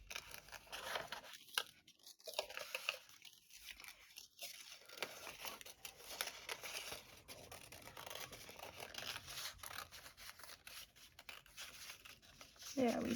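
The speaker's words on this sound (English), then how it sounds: "So we're going to cut out the darker shapes that we see." Paper shapes being cut out with scissors while preparing a reborn doll painting lesson, giving close, crisp snipping and crinkling sounds that run steadily throughout without any talking.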